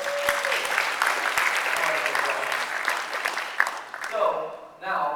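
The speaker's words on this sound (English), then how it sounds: "let's give a round of applause" An audience claps at a business chapter meeting in Chicago, a dense burst of applause from the room that holds steady for about four seconds before thinning out, with a voice starting to speak as it fades.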